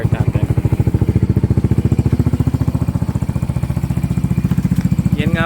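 A Honda Mio i 125 scooter engine fires up and settles into a steady, even idle, close and loud, with a rapid regular putter throughout.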